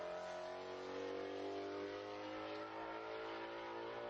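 Steady, loud engine drone of the number 16 race car lapping Utah Motorsports Campus during a NASA Championships race, heard from on board as a sustained, unbroken roar with no talk.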